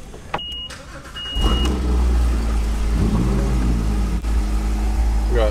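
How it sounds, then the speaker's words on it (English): A McLaren 570-series sports car, set to Sport Plus mode, fires up with a loud starter catch, then its engine settles into a deep idle with a few sharp revs, heard close and alone. "All right, I'm gonna fire this thing up."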